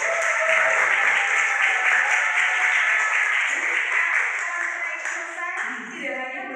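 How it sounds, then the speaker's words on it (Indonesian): A crowd applauds at an Indonesian school coaching session, with dense, sustained clapping that fills the whole stretch, fading slightly toward the end as music or voices creep in. "Tepuk tangan untuk kita semua dulu ya"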